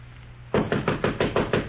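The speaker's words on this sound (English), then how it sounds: "I was sleeping soundly when Mr. Humphrey knocked on my bedroom door." Knuckles rap on a wooden bedroom door in a radio drama, seven firm evenly spaced knocks close up, heard alone after a short quiet hum.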